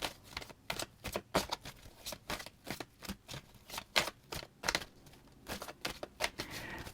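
Tarot cards shuffled for a reading, giving a rapid series of crisp riffling and snapping bursts in an uneven rhythm, close and fairly quiet, with no talking.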